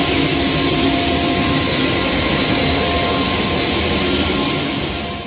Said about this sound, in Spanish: incluyó sobrevuelos en helicóptero para